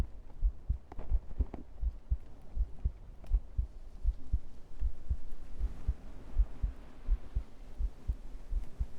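Steady heartbeat in a whispered ASMR stream: soft low thumps repeating in an even double-beat rhythm, close and muffled, with a faint hum underneath and no talking.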